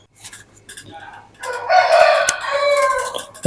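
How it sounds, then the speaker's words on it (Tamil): A chicken calls out in a loud, drawn-out burst with harmonic clucking, preceded by softer scattered noises and ending with a sharp knock. "கோழி கொஞ்சம் சும்மா இருக்கு"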